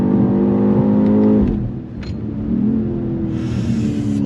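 A 2025 BMW X6 M Competition SUV engine rises in pitch under acceleration, drops as it shifts or lifts, then builds again with a low rumble and road noise from inside the car.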